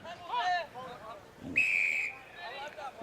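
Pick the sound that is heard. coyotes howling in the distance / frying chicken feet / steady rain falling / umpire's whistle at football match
umpire's whistle at football match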